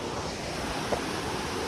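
River water flows past mountains at a picnic spot, a steady broadband rush with a wind-like hiss, even and unbroken, no voices.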